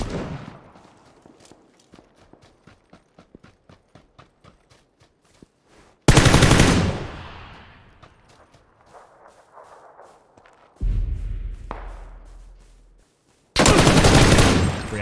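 Gunfire from the video game PUBG in third-person mode: a fast rattle of light shots followed by several loud, booming blasts with long decaying tails, close and dominant.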